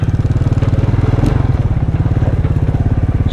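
A motorcycle engine that has sat unused for a while, with a sticky throttle, chugs close up in a fast, steady rhythmic pulse, with a brief throttle blip partway through.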